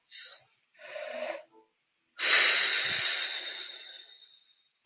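A slow, deep inhale taken during a guided breathing exercise in a healing circle, a long breathy rush lasting about two seconds, preceded by shorter breaths and a brief voice.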